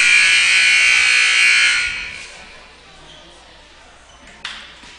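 A scoreboard buzzer at a junior varsity volleyball game in a gym blares loudly and steadily for about two seconds, then cuts off, leaving quieter hall ambience with a brief knock near the end.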